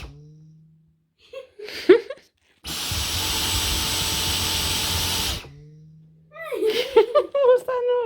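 A Dyson V10 Animal cordless vacuum runs with a loud, whining motor roar for about three seconds, then cuts off abruptly as the trigger is released. A person talks briefly before and after.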